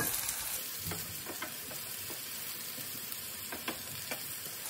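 Onion and garlic frying in a pan, a steady soft sizzle with a few faint clicks of a spoon, close but low in level, no talking.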